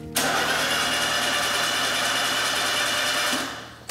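A Peugeot 106 Rallye engine cranks on a new starter motor, a loud, close, steady whirring churn lasting about three seconds before winding down.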